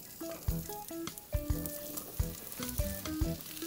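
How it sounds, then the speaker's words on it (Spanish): Carrots sauté in a splash of hot oil in a frying pan, a steady sizzle broken by a few louder stirring thumps and clinks of a utensil against the pan, close and alone with no talk. "Vamos a calentar un chorrito de aceite en la sartén para cocinar las verduras. Agregamos la zanahoria"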